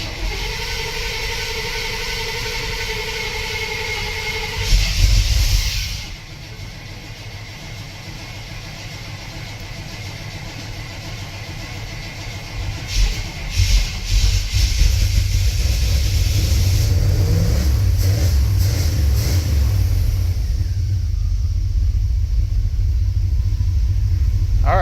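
An OBS-era truck with a hard-starting fault cranks briefly after its fuel pump is primed, then catches and settles into a loud, steady, rumbling idle close by.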